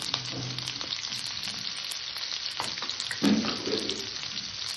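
Chopped onion and black cumin seeds fry in hot oil with a steady, close crackling sizzle, while a spoon scrapes and stirs now and then. The frying stays even and moderately quiet throughout.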